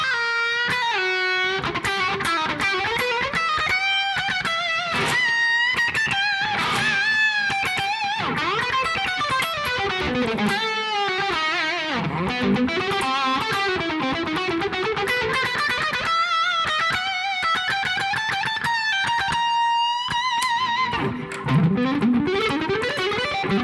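An electric guitar played through heavy distortion runs a fast, dense metal solo, loud and steady throughout, with no voices.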